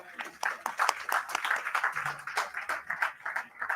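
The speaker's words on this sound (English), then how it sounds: "I think that deserves a round of applause" A small crowd claps steadily at a tug christening ceremony at the Port of East London, the rapid overlapping handclaps close and moderately loud, with voices mixed in underneath.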